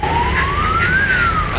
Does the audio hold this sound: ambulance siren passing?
yes